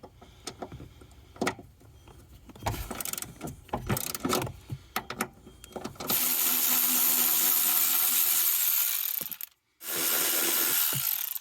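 A ratchet turns a 10 millimeter socket while working on a Ford F150, with quick bursts of clicking and tool clatter at first, then a sustained loud whirring run that briefly cuts out and resumes.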